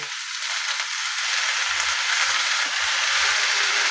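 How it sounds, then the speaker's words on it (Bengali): Snake gourd (chichinga) frying in a pan without salt, a steady close sizzle and crackle with faint stirring scrapes, no talking. "আমি এটাকে ভালোভাবে ভাজা ভাজা করে নেব"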